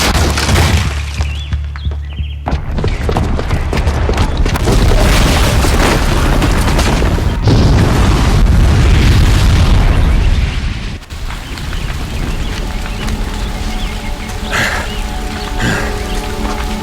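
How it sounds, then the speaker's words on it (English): A bomb set off by a booby trap in the video game Horizon Zero Dawn goes up in a long, loud, rumbling explosion with crackling debris like falling rain, which abruptly cuts off into a quieter ringing aftermath with no talking. "the booby trap on the bomb downstairs is gonna get set off"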